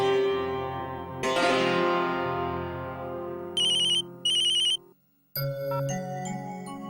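A telephone rings with a bright electronic melodic ringtone: a sustained chiming passage, then two short repeated bursts, a brief silence, and the tune starting again, loud and close.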